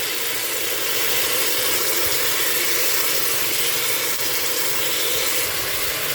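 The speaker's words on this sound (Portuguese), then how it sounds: "A água já começou a ferver" Water in a pot on the stove beside browning chicken for biryani is coming to a boil, giving off a steady, loud hissing and sizzling roar that holds unbroken throughout, with no voices.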